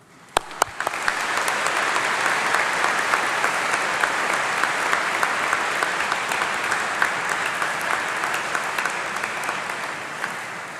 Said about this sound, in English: we give a huge round of applause to the people who've helped you along the way